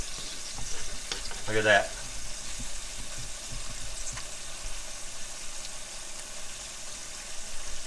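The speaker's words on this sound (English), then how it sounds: "Oh yeah, they're frying up good." Apples and lemon frying in a pan while tomato gravy and biscuits are made, a soft steady sizzle under the room's noise, with a brief voice speaking over it.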